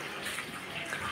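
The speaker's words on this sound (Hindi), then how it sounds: "पानी भी हम लोगों का आ रहा है" Water runs from a tap during clothes washing at home in India, a soft steady hiss and splash heard close up with no talking.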